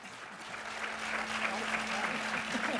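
An audience at a nurse researcher Hall of Fame ceremony gives a sustained round of applause for the inductees. The dense clapping swells slightly and holds steady, with a faint hum running underneath.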